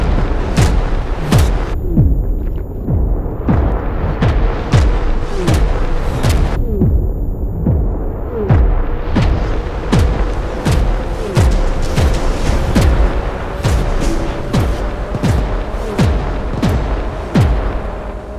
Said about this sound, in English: See artillery fire incoming.